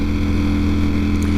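Ducati Streetfighter V4S motorcycle engine running steadily while riding, a loud continuous droning tone with wind rush, close to the microphone and with no voices.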